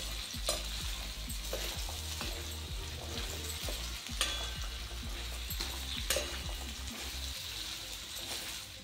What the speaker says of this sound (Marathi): तर अशा 5 मिनिटापर्यंत आपल्याला हे छान परतून घ्यायचे आहे